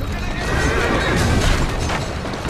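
A horse in Assassin's Creed Syndicate gives a loud, close whinny lasting a couple of seconds, with rough breathy texture over game background noise.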